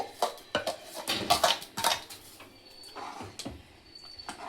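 Ground tomato, coconut and green chilli paste being stirred into an egg curry with dantina soppu greens in a metal pot, giving repeated scraping and clinking strokes of a spoon against the pot, close and fairly loud with brief pauses.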